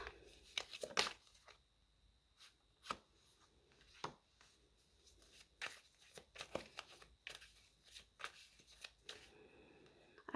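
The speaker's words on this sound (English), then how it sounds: "Please give us some cards." Tarot cards shuffled by hand at close range, with soft riffles and scattered slaps of the deck in an irregular rhythm and no talking.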